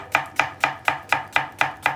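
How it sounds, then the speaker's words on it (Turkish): A knife chops onions steadily on a board, eight crisp evenly spaced strikes in quick rhythm, close and clear with no voices. "soğanımızı doğruyoruz"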